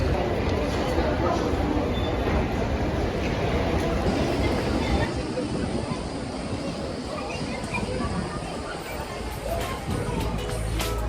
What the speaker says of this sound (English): Inside the Geneva train station terminal